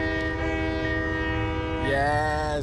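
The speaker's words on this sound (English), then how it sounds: "Oh, it's a horn. Oh, I'm definitely hitting it." A sustained, loud locomotive horn sounds in the train simulator game Train Life, holding a steady chord that swells and shifts slightly near the end, with a brief spoken word during it.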